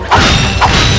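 Bolts collected in Ratchet & Clank, two quick crunchy metallic clinks about half a second apart, loud and close over a dense bed of game sound.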